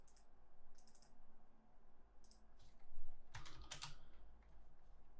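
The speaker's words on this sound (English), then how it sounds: "I'm just going to click File, Save As." A computer mouse and keyboard click while a file is saved: faint, scattered clicks and key taps, then a brief busier burst of clicks midway, all quiet and without speech.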